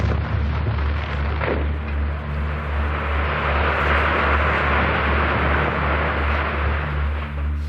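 An aerial bomb striking an underground hospital in Syria, heard as a loud, sustained low roar and rumble that swells and holds without a break, with no speech.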